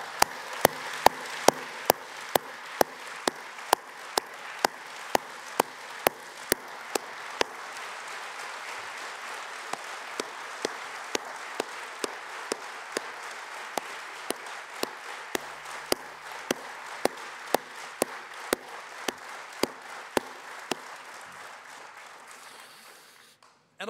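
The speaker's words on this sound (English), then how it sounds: "please, an applause of respect for the founder of your party" Steady audience applause at a party conference, sustained for over twenty seconds with sharp rhythmic unison clapping cutting through the crowd wash, fairly close and loud, then stopping abruptly.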